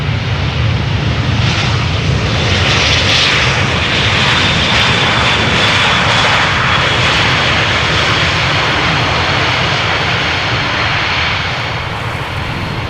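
A 30-year-old Airbus A321 airliner from 1994 arriving at Amsterdam Schiphol, its engines a loud, continuous close roar with rushing broadband noise that swells slightly early and holds steady throughout.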